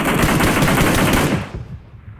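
Rapid automatic gunfire in a video game: a loud, continuous burst of shots that stops after about a second and a half, leaving a fading echo.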